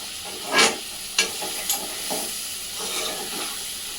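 Irukaya curry sizzles steadily in a pan while a spoon stirs it in a few scraping strokes over a constant frying hiss.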